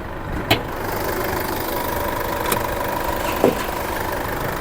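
Isuzu MU-X The Onyx 2019 with a 3.0 litre 177 hp diesel engine idles steadily, a low, even hum with a few faint clicks, no voices over it.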